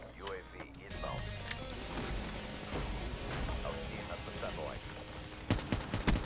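Gunfire in Black Ops 3 multiplayer on the Uplink map, with rapid bursts of shots and louder cracks near the end, under excited talking.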